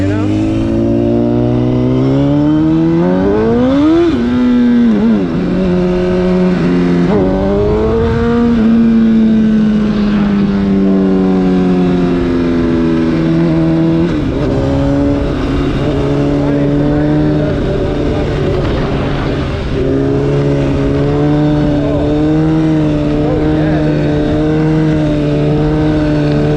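A 1000cc sport motorcycle engine revs loud and close while being ridden, pitch climbing and dropping in repeated swells of throttle with steady wind and road noise beneath.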